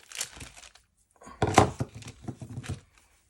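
Cling wrap laid over a napkin page being cut, bursts of crinkling plastic and snipping close up, in two short clusters with a quiet gap between.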